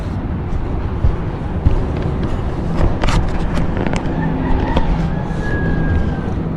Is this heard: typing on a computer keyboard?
no